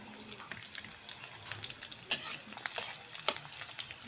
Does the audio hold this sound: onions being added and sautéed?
yes